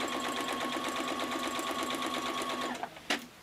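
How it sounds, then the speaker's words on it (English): A sewing machine runs close and loud in a fast, steady rhythmic chatter while stitching the corner of a quilt block, then stops with a couple of soft clicks and no talking. "Then you just put it under the presser foot and sew."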